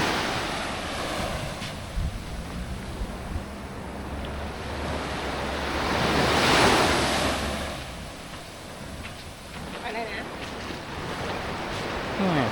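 Surf washes steadily at Sunrise Beach on Koh Lipe, Thailand, with wind buffeting the microphone and a low boat engine droning underneath for several seconds, as a taxi boat runs close to shore.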